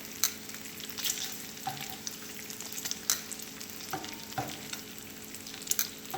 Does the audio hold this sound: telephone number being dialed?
no